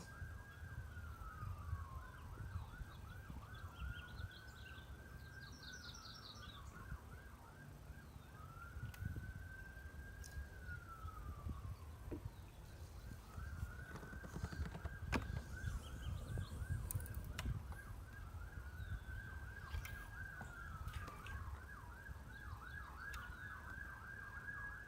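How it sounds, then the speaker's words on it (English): Wailing police sirens on the Delta, heard from a boat, rise and fall repeatedly in the distance, layered over a low rumble of traffic and ambient noise, with no talking. "Police sirens on the Delta."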